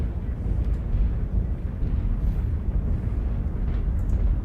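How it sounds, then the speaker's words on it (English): Heavy, continuous low rumble from an artillery strike in the MechWarrior video game, a dense booming roar that holds steady and loud throughout without distinct separate blasts. "Artillery strike online."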